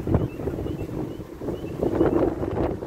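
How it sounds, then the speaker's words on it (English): Strong wind gusting to 45–50 mph roars and buffets the microphone in a steady low rumble that swells in gusts, with no voices. "Extremely windy today."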